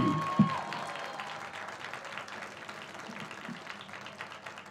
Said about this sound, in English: a nice round of applause for Mabel Cunha Casey.